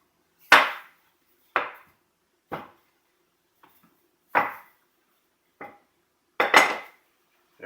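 Wheat flour tortilla dough being rolled out, heard as six or seven sharp knocks and thumps of a rolling pin against a hard surface, spaced about a second apart, close and clear.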